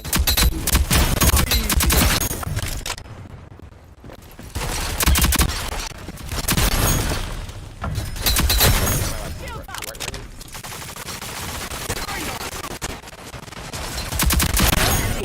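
Rapid bursts of gunfire in a multiplayer shooter video game, loud and repeated across the clip with short pauses, mixed with game effects and players talking.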